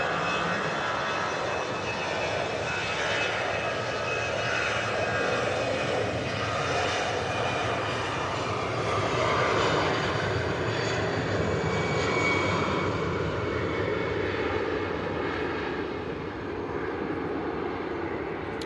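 An Emirates airliner approaching Manchester Airport at about 2,500 feet gives a loud, sustained jet engine roar that swells slightly and holds steady throughout, with no talking.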